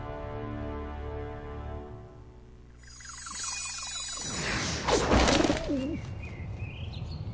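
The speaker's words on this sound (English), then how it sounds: "It's a bird." Birds in the game Hyrule Warriors: Age of Calamity, with cooing, dove-like calls and chirps against tonal game music, followed by a burst of louder effects; no speech.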